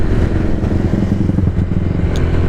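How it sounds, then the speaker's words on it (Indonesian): A Honda Vario 125 scooter being ridden along a village road, its engine droning loudly and steadily with a rough low rumble for the whole stretch. "pakai motor lewat sini aja"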